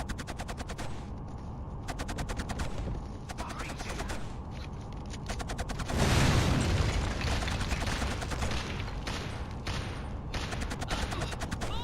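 Rapid automatic gunfire from the shooter KillZone rattles in long bursts with a dense fusillade, punctuated by a heavier blast midway, loud and close, with voices calling out over the shooting.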